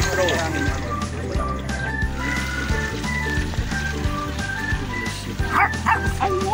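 Three dogs at a campers' meet-and-greet barking repeatedly amid outdoor crowd chatter and background noise, yips and barks scattered through, with people talking throughout.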